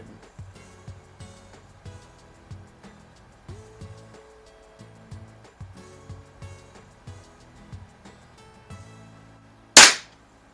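A Baikal IZH-46M air pistol fires an RWS Diablo Basic pellet, giving one sharp, loud crack near the end after a stretch of faint, rhythmic background sound.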